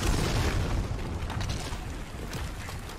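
A bomb explosion in a Search and Destroy match of Call of Duty Modern Warfare: a broad, sustained low boom with rumbling debris, heard loud and close for about three seconds with no talk over it.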